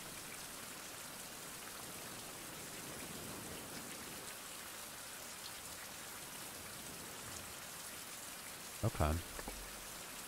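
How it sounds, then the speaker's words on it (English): Steady rain hisses throughout a 16th-century survival video game, an even, dense wash of falling drops; one short word is spoken near the end. "Oh, and it's raining."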